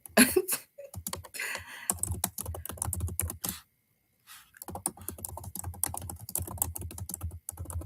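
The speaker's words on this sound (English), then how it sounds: "I'm just typing the polls here." Rapid clicking of typing on a computer keyboard, close and continuous, with a short pause midway before the keystrokes resume.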